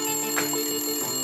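A telephone ring in a song, a short bright ringing tone heard against steady sustained musical tones, lasting barely over a second.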